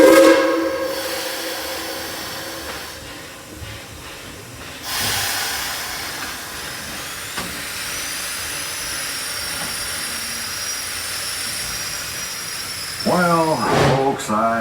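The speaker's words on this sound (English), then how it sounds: "Get this train on up to Fort Boone." The Tweetsie Railroad steam train sounds a loud whistle, then gives off bursts of hissing steam, with a thinner high whistle tone drawn out over the middle and a louder whistle blast near the end.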